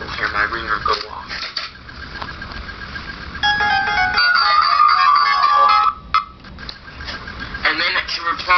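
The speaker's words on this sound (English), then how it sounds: "you will hear my ringer go off." An LG Scoop flip phone on Alltel rings for an incoming text, a loud electronic melody of tonal notes lasting a few seconds, with talking before and after it.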